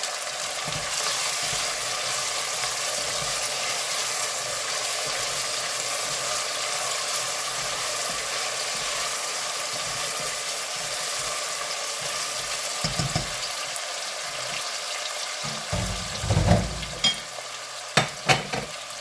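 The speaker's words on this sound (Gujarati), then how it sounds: "બરાબર આપણે હલાવીશું।" Chopped vegetables and potato for veg pulao sizzle steadily in a hot pan, with a constant loud frying hiss and scraping stirs and utensil knocks growing sharper toward the end.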